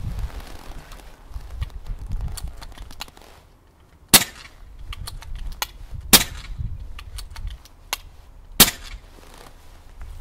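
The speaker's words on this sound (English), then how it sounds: "I'll just quickly show you how fast the side lever is in action." An Air Arms S510 TC twin-cylinder air rifle is cycled with its side lever and fired, giving sharp, loud cracks at intervals among softer metallic clicks and clacks of cocking and magazine indexing.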